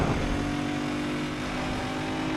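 Car engine in a video game revving steadily and loudly, a continuous droning roar with sustained tonal harmonics and no speech over it.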